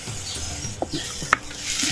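Oil sizzles steadily as onion and coriander are lightly sautéed in a pan for millet flour cutlets, with a few soft stirring clinks and scrapes over the broadband hiss.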